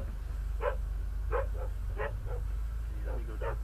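Several dogs bark in short, separate yips at a moderate distance over steady low background noise, about five barks spread evenly.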